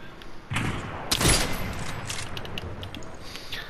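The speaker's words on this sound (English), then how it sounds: "people shooting like crazy then" Fortnite gunfire, a loud burst of shots that rattles for about a second, then fades into a softer tail with scattered faint pops.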